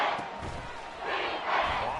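A football stadium crowd roars in a broad, continuous wash that swells and grows louder toward the end, with a commentator talking over it.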